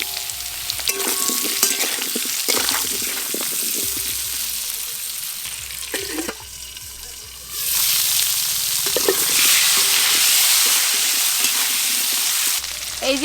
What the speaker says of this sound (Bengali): প্রথমে আলুগুলো একটু হালকা করে ভেজে নিই।